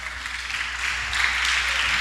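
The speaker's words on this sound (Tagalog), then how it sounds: "palakpak." A church congregation claps during a sermon, a dense, steady wash of applause that swells slightly as it goes on.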